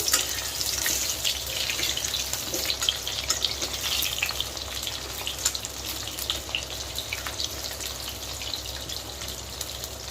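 Potatoes fry in hot oil with a steady, dense sizzle and crackle running evenly throughout, close and moderately loud, with no voices.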